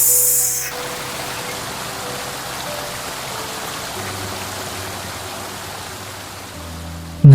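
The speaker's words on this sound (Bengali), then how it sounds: "আমরা এখন আছি নাপিতা ছড়া ঝর্ণার প্রথম ঝর্ণাটায়" The first waterfall on the Napittachara trail roars as a steady, loud rush of falling water, a continuous broadband wash with no voices.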